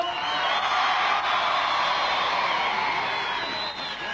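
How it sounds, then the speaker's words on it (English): A crowd applauds and cheers for a contestant at a 1981 It's a Knockout outdoor games event between Dunfermline, Cumbernauld and Glenrothes, a steady, loud wash of clapping with a few whoops that holds for several seconds. "Give him a nice round of applause"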